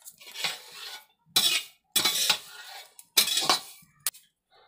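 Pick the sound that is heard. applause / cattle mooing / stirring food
stirring food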